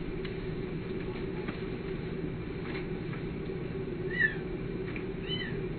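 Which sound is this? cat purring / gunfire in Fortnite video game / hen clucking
cat purring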